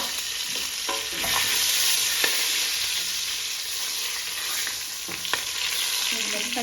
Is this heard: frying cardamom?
yes